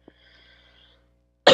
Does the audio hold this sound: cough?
yes